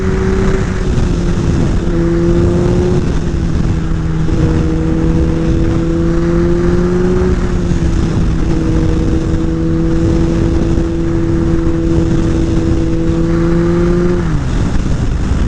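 A car engine roars loud and close, revving up and held at high, steady revs for a first gear hit, the pitch stepping between levels before dropping sharply near the end.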